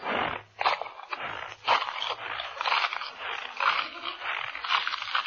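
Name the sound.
vocal imitation of a peppermint puggly-woogle being eaten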